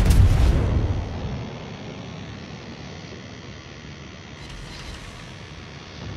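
Heavy battleship guns from World of Warships fire a volley: one loud booming blast at the start, then a long rumbling decay fading under low background noise.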